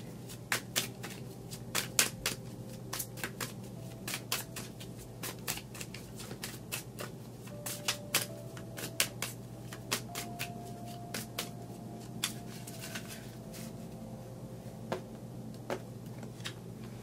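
Tarot cards are shuffled by hand at close range, producing a long run of quiet, irregular riffles and crisp slaps with steady faint background hum and no talking.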